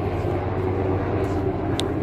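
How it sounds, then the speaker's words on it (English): A steady engine drone of a tour helicopter passing low overhead near Niagara Falls, loud and constant, with a faint voice briefly audible. "that helicopter was right there on us"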